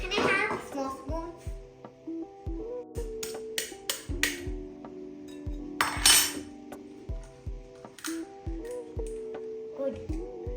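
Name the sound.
mixing sugar in a bowl with a spoon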